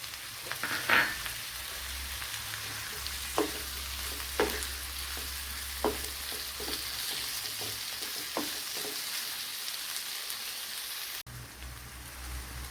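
Tomato sautéing in a pan for mackerel curry gives a steady sizzle and crackle, broken by a few stirring scrapes, close and moderately loud, with no talk.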